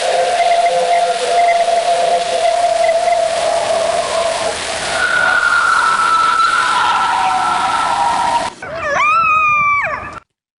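Alleged Sasquatch vocalizations: long, loud, wavering howl-like tones that hold steady and then shift higher, ending with a brief burst of rapidly rising and falling cries, all over a constant hiss of background noise.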